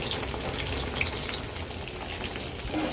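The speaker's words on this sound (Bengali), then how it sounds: "লো ফ্লেমে 10 মিনিটের মতো চিকেনটাকে আমি এইভাবে ফ্রাই করে নিয়েছি" Chicken pieces frying in a pan over a low gas flame, a steady dense sizzle with faint crackling that runs evenly throughout, close and alone without any voices.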